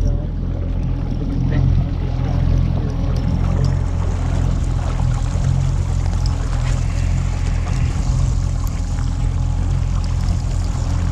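Fishing boat motor running steadily on Puget Sound during salmon trolling, a constant low droning hum with water wash, close and loud throughout.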